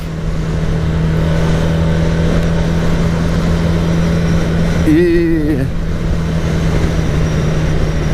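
A 1982 Honda CB 400 twin-cylinder motorcycle engine with an external balancer runs at a steady, even idle, loud and close, while someone briefly speaks partway through.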